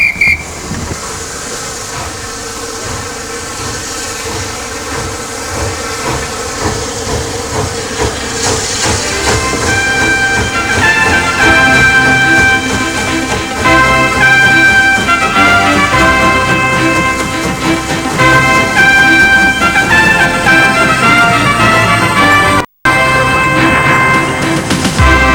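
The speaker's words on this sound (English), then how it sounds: "There's something especially British about steam trains." A steam train pulls away from a British station, a loud steady chuff and hiss under a layered whistle-like tonal ringing that builds and holds for the whole stretch, with no talk.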